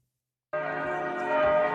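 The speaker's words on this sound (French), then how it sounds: "Les cloches du Saint-Sépulcre, le tombeau du Christ à Jérusalem, en écho avec celle de New Delhi" Church bells of the Holy Sepulchre in Jerusalem ring out, entering abruptly after half a second of silence and then holding as a dense, sustained wash of overlapping tones that swells slightly toward the end.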